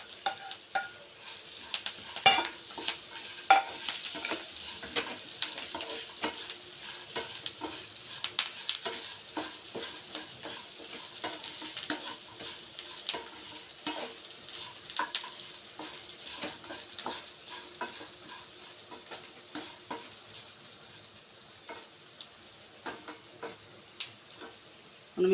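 Okra pieces fry and are stirred in a pan for a garlic chilli okra fry. A steady close sizzle runs throughout, broken by frequent rhythmic scraping ticks from the spatula.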